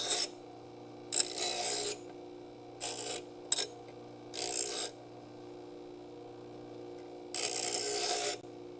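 Angle grinder working on steel plate for truck rust repair in a shop, several separate bursts of harsh rasping grind of a second or so each, with quieter gaps of low hum between them.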